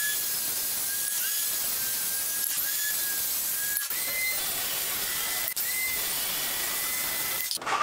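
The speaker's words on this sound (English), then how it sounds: "And drill our pocket holes." A power drill bores pocket holes in wood for a garage cubby bench, a steady high whine running nearly continuously with brief pauses and speed changes between holes, close and loud.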